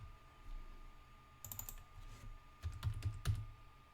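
Typing on a computer keyboard while setting up a Linux swap partition, with scattered close key clicks in short bursts, including a quick run of taps near the end, and no talking.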